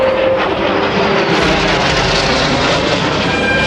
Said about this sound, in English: here comes the Royal Navy Sea Harrier